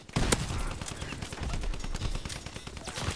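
Rapid gunfire in a video game crackles in a dense, continuous burst of close, loud shots, running almost unbroken from start to finish.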